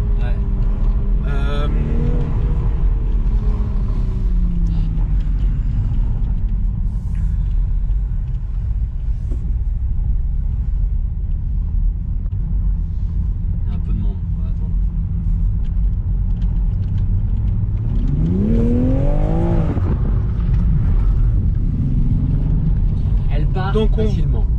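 A new Toyota Supra pulls away hard, engine rumble climbing in rising revving sweeps early on and again near the end, with people talking in French over the steady low drone between.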